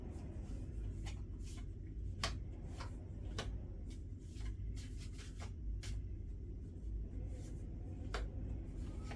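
Tarot cards are laid down one after another on a table, making soft, scattered taps and light flicks over a steady low rumble, with no talking.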